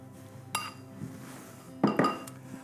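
Spoon and plate clinks while anchovy cream is dolloped onto a plate in a kitchen: a few light ceramic and metal taps, two sharper clinks near the end, close and quiet, no talk.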